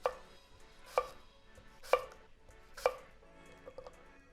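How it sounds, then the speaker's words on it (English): A knife chops fruit into chunks on a cutting board for a winter fruit salad, four evenly spaced firm cuts about a second apart, close and clear, followed by a few quicker light taps. "I'm just gonna go ahead and cut these up into chunks."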